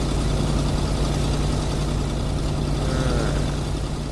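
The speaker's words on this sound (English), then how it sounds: "we've got this car just idling away" A car engine idles in the video game GTA V, giving a steady, loud low rumble that runs on without a break and without talk.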